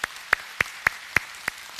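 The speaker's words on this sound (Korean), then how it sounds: "우리 하나님께 영광의 박수 올리겠습니다." Church congregation at a Sunday service clapping in praise after a prayer, heard as a few sparse, evenly spaced sharp claps, about six in all, fairly faint and distant over a quiet room.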